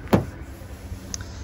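A 2016 Toyota RAV4 SE AWD power liftgate shuts with one sharp, close thump near the start, followed by a faint, quiet hum.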